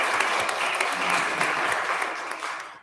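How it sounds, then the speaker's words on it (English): An audience applauds at a charity presentation, a dense continuous wash of many hands clapping at once, loud and steady throughout before fading slightly toward the end. "So that is pretty impressive and does deserve a round of applause."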